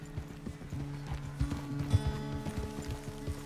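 Horse hooves clip-clop at a walking pace in Red Dead Redemption 2, close and steady with a few heavier thuds, beneath a low sustained hum of game music.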